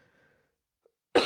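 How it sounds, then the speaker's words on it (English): A single sharp cough erupts close by after near silence. "a stupid cough"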